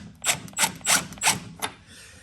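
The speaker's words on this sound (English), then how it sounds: "now I'm just gonna do it with the impact" An impact wrench hammers a screw tight while lowering springs go onto a Porsche 981 Cayman/Boxster, giving four or five close, loud rattling bursts in a steady rhythm before trailing off.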